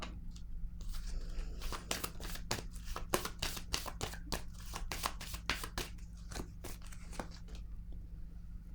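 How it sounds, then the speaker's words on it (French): Cards are handled and laid down on a table during a card reading, giving a quick series of sharp flicks and soft slaps close by over a steady low hum. "Je vais déposer une autre carte ici."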